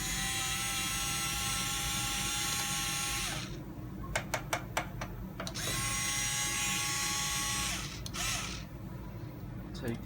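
Power driver whirring in steady runs with short bursts and clicks while backing out the screw and nut that hold a shock to the axle of an RC 4x4 truck, close up over a constant background hum.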